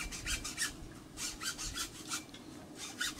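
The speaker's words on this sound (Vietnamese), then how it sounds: "Rồi anh Tân nó cưa được 2-3 ống rồi." A saw cuts through bamboo tubes in quick, even back-and-forth rasping strokes, roughly three per second, close and steady with no speech.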